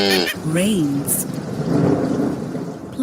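Thunder rumbles low through steady rainfall, a loud close storm with rain hissing throughout and a voice briefly speaking at the start.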